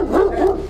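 A single short bark from a dog during a tense police encounter, close and fairly loud, lasting under a second with no talk over it.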